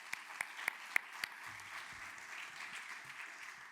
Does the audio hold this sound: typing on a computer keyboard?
no